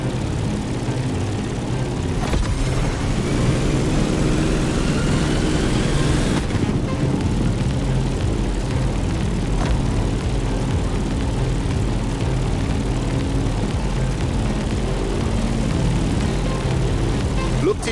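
A propeller aircraft engine drones steadily while climbing in The Crew Motorfest video game, a loud, continuous buzzing hum with a faint pitch sweep partway through, with a voice speaking faintly underneath.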